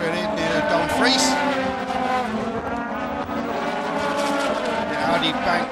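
An Audi DTM race car roars past at speed at the Valencia Ricardo Tormo circuit in 2010, engine pitch sweeping across the run, with a commentator talking over the noise throughout.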